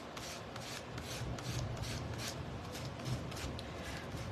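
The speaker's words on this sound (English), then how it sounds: "And then I'm sanding just to get a little more dimension." Steady, continuous rasping of hand sanding on wooden topiary shelf decor, a rhythmic back-and-forth scrubbing close by with no talking.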